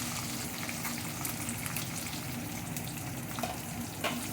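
Chopped onion dropped into hot oil with curry leaves in a pan for a quick brinjal-potato dish, giving a steady, close, fairly quiet sizzle that runs without a break, with a few faint clinks.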